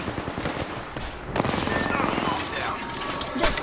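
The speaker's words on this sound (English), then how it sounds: "Listen up, I'm getting shot at." Automatic gunfire in the battle royale shooter Apex Legends, rapid bursts crackling through a dense in-game mix of effects, with a voice talking over it.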